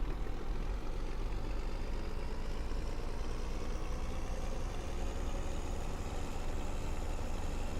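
A Chevy/GMC truck's turbocharged engine in Farming Simulator 2015, a steady, continuous drone with a low rumble and a faint rising whine.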